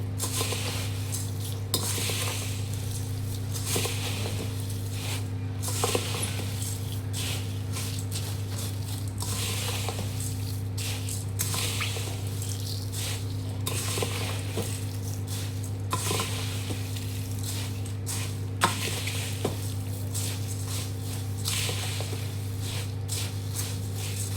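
Dry spice powder mixture being stirred in a hot pan, a steady scraping and light sizzling patter with occasional sharper clinks of the utensil against the metal, continuous and fairly close, with a low steady hum underneath.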